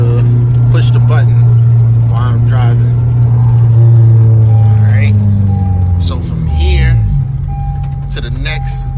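A car being driven, its steady low engine hum running throughout while someone talks over it close to the microphone.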